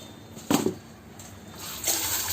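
Lentils (dal) being washed in water by hand, with a sloshing gush near the start, a quieter swirling stretch, then another swell of splashing toward the end, close and with no talking.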